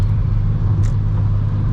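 A car drives along a road, heard as a steady, loud low rumble of engine and road noise with no break.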